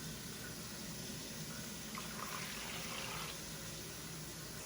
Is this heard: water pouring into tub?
yes